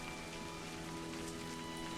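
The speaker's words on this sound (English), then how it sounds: "Let's wait out the rain here." Steady rain from the video game A Highland Song, heard while sheltering inside an old ruined house: a soft, even hiss of falling drops that continues without a break, fairly faint, with faint sustained tones beneath it.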